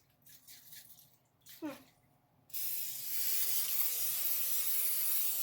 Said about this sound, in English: now we can spread it with some cooking grease